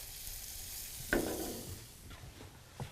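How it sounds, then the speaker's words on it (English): Fennel sautés and browns in a pan, a faint soft sizzle with a brief stirring scrape partway through and light clinks, no voices. "So basically I'm just gonna Saute the fennel down a little bit."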